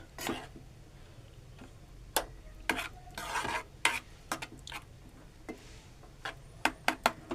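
A spoon stirs mung dal kheer in a pan with irregular scraping strokes and sharp clicks against the pan, over a soft, steady sizzle, close and fairly quiet.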